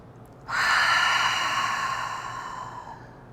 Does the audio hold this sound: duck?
no